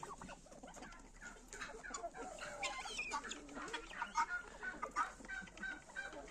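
Laying hens cluck and squawk repeatedly in a farmyard flock, a busy overlapping chorus of close and mid-distance calls with no talking.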